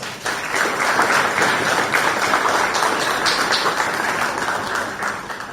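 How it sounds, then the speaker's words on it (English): An audience applauds at a Ministry of Education press conference, steady sustained clapping from many hands for several seconds without speech. "for that they deserve a round of applause"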